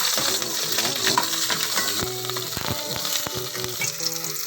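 Tabayag gourd sautés in a hot pan with a dense, steady sizzle and crackle, broken by occasional clinks and scrapes of a utensil stirring against the metal.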